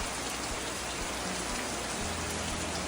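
Steady rain falling, a dense continuous hiss of drops on surfaces with no other sounds standing out.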